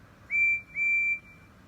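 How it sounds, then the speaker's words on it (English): Percy's toy train whistle from the Thomas and Friends Wooden Railway set, two clear high steady blasts, the second longer, sounding alone against quiet background hiss. "No, that was a whistle. Percy's whistle."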